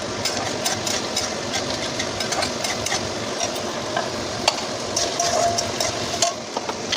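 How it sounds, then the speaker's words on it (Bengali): Boiled rice being stirred and lightly fried in a pan, with a steady sizzle and scraping that run the whole way through, plus occasional louder clinks of the utensil against the pan. "একটু নাড়িয়ে চালিয়ে"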